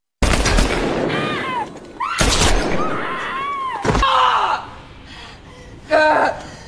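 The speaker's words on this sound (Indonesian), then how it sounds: "Cat datang tepat waktu dan membunuh semua orang sebelum Shinzo sempat menembak." Gunfire from the action film Kate (2021) comes as several loud, sharp shots in separate clusters, with a gasping voice and ringing tonal effects between them.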